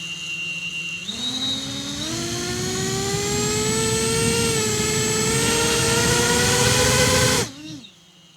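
A small FPV racing drone spins up its propellers close by, a thin, whining buzz that climbs in pitch, holds steady for several seconds and then cuts off abruptly.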